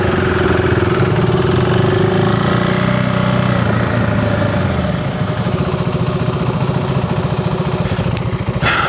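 A 2025 KTM 390 Enduro R single-cylinder engine hums loudly while riding, then drops to a slower, chugging pulse as the revs fall midway through.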